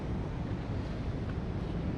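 Ocean waves along the rocky Karang Gigi Hiu coast, a continuous broadband wash of surf mixed with wind rumble on the microphone, steady and fairly loud with no speech.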